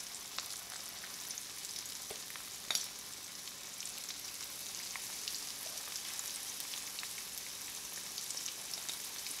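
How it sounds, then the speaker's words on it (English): Soft, continuous sizzling of catfish nuggets frying in hot oil, with scattered tiny pops and crackles, steady and fairly quiet with no talking. "when you're frying, always put the food in away from you"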